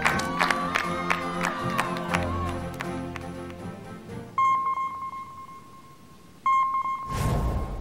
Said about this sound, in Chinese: 让我们掌声欢迎岳云鹏先生和何炅先生，掌声有请